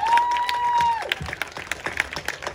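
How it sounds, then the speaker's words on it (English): A crowd at a dance competition claps in a lively, scattered burst of applause for participants and choreographers, opening under a brief steady electronic tone. "give big round of applause for all the participants and choreographers"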